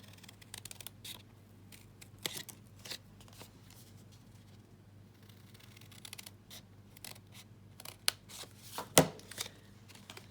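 Scissors cutting paper while making a paper box: repeated short, crisp snips at an irregular pace, near and fairly quiet, with brief pauses between cuts.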